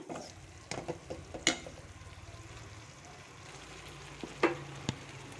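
Tomato puree for a dhaba-style Punjabi rajma masala curry sizzles and fries steadily in a pan, with a few sharp clinks and stirring knocks over a soft, continuous crackle.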